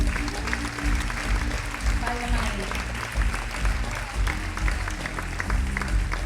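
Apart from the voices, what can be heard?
audience applause at a concert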